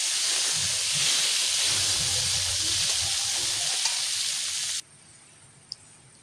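Crushed elephant apple (outenga) hits a hot pan in a loud, steady hiss of sizzling that runs for several seconds, then cuts abruptly to a faint, quiet background with a small click.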